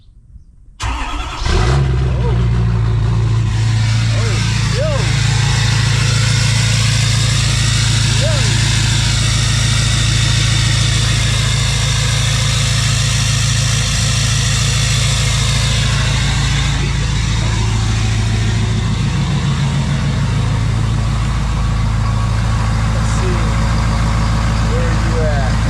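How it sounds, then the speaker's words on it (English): A Ford Powerstroke diesel truck engine cold-starts with a brief crank, then settles into a loud, steady, rumbling idle that runs on close by. A voice speaks briefly over it. "are we doing a cold start?"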